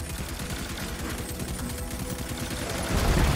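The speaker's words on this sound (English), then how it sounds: "Now shoot him." Continuous rapid automatic gunfire aimed at a boss in Destiny 2 during the Leviathan raid, a steady rattling stream of close, loud shots that grows slightly heavier near the end.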